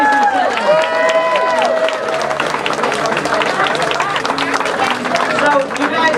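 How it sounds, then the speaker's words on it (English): Political rally crowd at a county Democratic headquarters opening breaks into applause and cheering, clapping building into a dense wash after a voice speaks over the start. "One more round of applause for this most amazing session."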